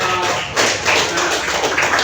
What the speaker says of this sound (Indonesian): Tepuk tangan dulu buat kelompok.